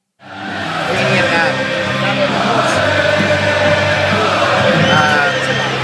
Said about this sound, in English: We actually had the entire crowd sing "Ole, Ole, Ole, Ole" a cappella